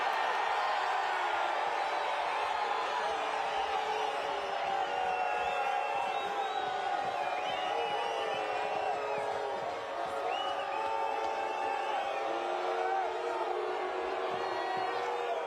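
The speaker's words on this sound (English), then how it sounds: "Crowd voices its displeasure." A stadium crowd at a Monterey Bay FC vs LAFC US Open Cup soccer match voices displeasure, a dense, steady wash of jeers and shouting heard from within the stands, continuous and even in level throughout.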